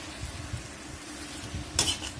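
Fish curry with sour tenga being stirred in a kadai: soft scraping and light clinks of a spoon against the pan over a faint sizzle, with a brighter clatter near the end.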